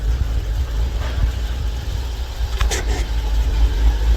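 A car with an upgraded MX exhaust idles, giving a steady, loud low rumble that stays even throughout, with a couple of faint higher clicks.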